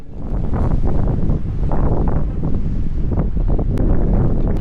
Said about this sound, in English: It's still quite breezy now, but nothing compared to what it was.